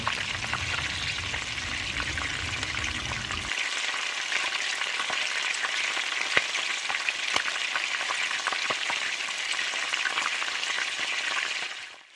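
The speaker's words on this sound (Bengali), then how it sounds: "তেল আমাদের গরম হয়ে গেছে, এবার মাংসগুলো একটা একটা করে দিয়ে দেবো আর ভেজে নেব" Meat pieces fry in hot mustard oil, a loud, steady close sizzle that runs unbroken, with a low bubbling rumble only at the start and faint crackles scattered through it.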